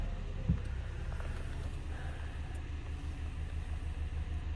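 A Skoda Octavia 2.0 TDI diesel engine fires up with a brief thump, then settles into a low, steady, quiet idle rumble that continues unchanged to the end, recorded from close by with no talking.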